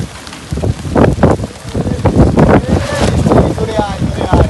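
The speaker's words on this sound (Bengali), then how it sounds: "এতক্ষণ শুধু বাতাস ছিল" Gusty wind blows across an open-air riverside cooking spot on a char at Char Shalepur, roaring loudly against the microphone in uneven bursts that fill the whole clip.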